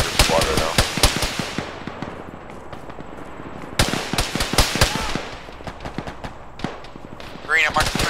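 Gunfire from .50 caliber machine guns in a military video game, sharp loud shots in short irregular bursts with echoing decay, pausing and resuming, while a voice talks over parts of it.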